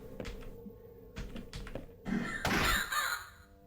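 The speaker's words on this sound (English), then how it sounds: "That's a big bird." A large bird caws in the video game House of Necrosis, giving a few raspy calls over soft thuds and taps, then a louder, noisier burst near the end.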